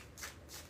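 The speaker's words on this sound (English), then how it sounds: "3 more shuffles" Tarot cards are shuffled by hand in two soft, quick riffling bursts, faint and close, with no voices during them.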